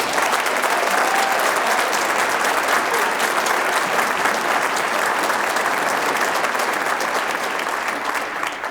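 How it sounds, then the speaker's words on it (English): A concert hall audience applauds the orchestra at a university spring band and orchestra concert, a sustained, even wash of clapping that holds strong and tapers slightly at the end. "how about one more time, a round of applause for the orchestra"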